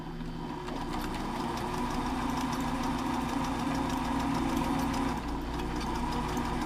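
Sewing machine running continuously while stitching a quarter-inch seam on a fabric mask, a steady close mechanical hum with rapid needle chatter throughout.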